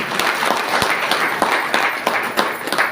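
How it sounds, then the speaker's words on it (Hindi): Audience at a DXN business gathering claps in applause for a host, a dense burst of many hands with sharp individual claps, steady and fairly close, with no talk over it. "एक बार सर के लिए ताली होना चाहिए"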